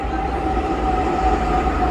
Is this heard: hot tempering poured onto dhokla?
no